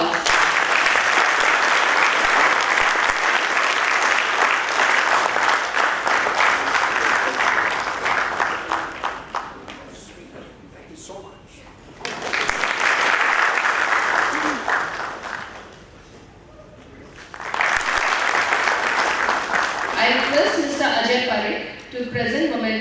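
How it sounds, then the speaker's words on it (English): An audience at a 2016 HR convention claps loudly in three sustained waves of applause, each fading before the next begins, with voices faintly mixed in. "Please give a big round of applause."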